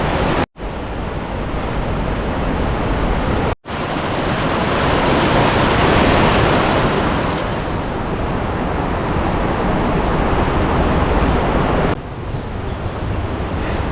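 Steady roaring rush of water pouring through the abandoned Monteja dam on the upper Guadiaro river, a dense continuous torrent close by, with brief dropouts early on and no voices.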